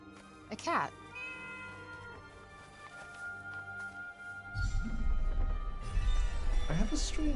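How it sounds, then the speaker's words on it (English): A cat meows in the video game Forspoken: a short rising meow comes early and another near the end, over steady game music and ambience, with a person talking in between. "A cat."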